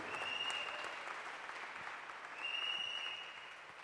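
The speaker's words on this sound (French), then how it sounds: "Clap your hand for Jesus On Christ." Church congregation clapping hands for Jesus during a sermon, a sustained, fairly faint wash of applause heard from a distance, with a sharp tone briefly sounding over it twice.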